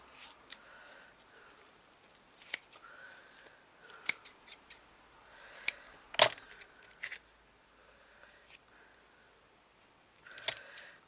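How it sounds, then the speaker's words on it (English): Scissors snipping an old piece of foam, a handful of sharp, quiet cuts spaced out over a faint background, close by with no talking. "let me get my scissors just to level this off a little bit"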